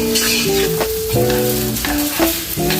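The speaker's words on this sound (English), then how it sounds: "I'm gonna saute my vegetables." Chopped celery and other vegetables sauté in a pot over medium heat, giving a steady sizzle with occasional stirring beneath prominent background music.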